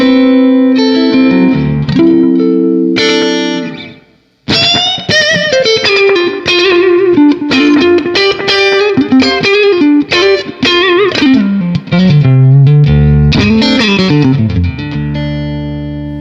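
An electric guitar rings out clean through a Fender Super Reverb amplifier with no pedal, playing chords and melodic runs with a warm, reverberant tone and a brief pause early on.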